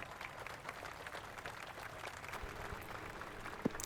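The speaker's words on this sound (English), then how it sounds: "Well, there's an applause." Crowd applause from a golf gallery in the Xbox 360 game Tiger Woods PGA Tour 12, a soft, steady patter of clapping lasting a few seconds, fairly faint and distant.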